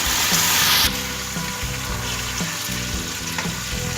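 Garlic and ginger go into a pan of browned onions for Lahori chickpea curry, with a loud steady sizzle of frying in oil and faint scraping stirs throughout, close up and with no one talking.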